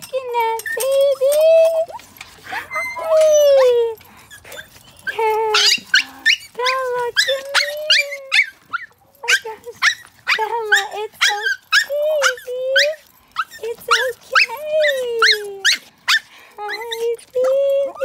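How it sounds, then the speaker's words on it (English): A small dog barks excitedly in quick, high-pitched bursts mixed with yips and whines, close by and fairly loud throughout. "Who are you barking at, baby?"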